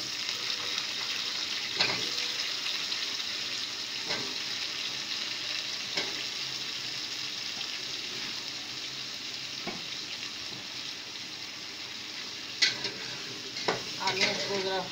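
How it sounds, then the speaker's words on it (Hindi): Potatoes fry in a pan with onions, a steady sizzle running throughout, with occasional utensil scrapes and knocks against the pan and a few sharper clinks near the end. "अब मैं ये आलू डालूंगी।"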